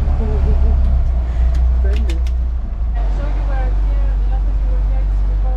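Tour boat engine droning low and steady while the vessel is underway, loud and close, with people talking over it.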